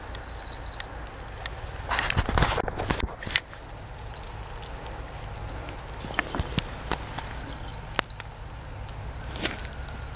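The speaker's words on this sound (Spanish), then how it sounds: "Mira las cabras locas estas." Goats trot past on open ground, with a cluster of quick hoof clatters and shuffling steps near the start followed by scattered lighter footfalls against steady outdoor background noise.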